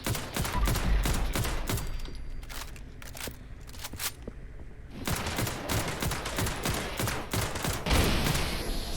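Gunfire blasts a sentry bot in a post-apocalyptic video game, with rapid bursts of sharp, loud shots rattling off, a brief lull in the middle, then more sustained firing.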